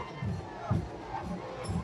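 A crowd of Congress party workers at a street rally for Vishal Patil, a low, steady murmur of many voices with a few faint cheering swells, heard at a distance and without distinct talking.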